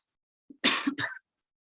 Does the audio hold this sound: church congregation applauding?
no